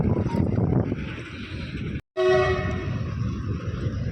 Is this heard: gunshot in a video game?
no